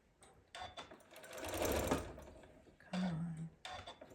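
A sewing machine stitches down a Hunter Star quilt block in short bursts, a close, quiet mechanical whirring that speeds up and stops, with small clicks of the mechanism between runs.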